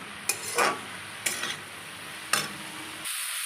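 Steamed cauliflower is stir-fried in a pan: three or four quick scraping stirring strokes break over a soft, constant sizzle, with no voices.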